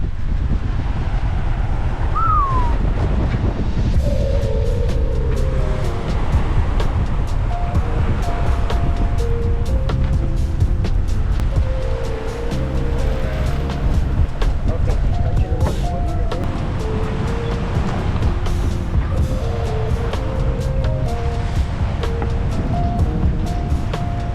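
Steady wind and water rush around a sailboat running with the wind just aft of the beam at 7 to 8 knots at night, a continuous broad roar with faint tonal creaks and whistles throughout.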